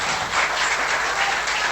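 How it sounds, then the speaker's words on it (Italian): A dense burst of audience applause at the Gran Premio Internazionale di Venezia Leone d'Oro awards gala, many hands clapping steadily and fairly close for a couple of seconds. "Alziamoci in piedi, signori, in piedi. Un grande applauso."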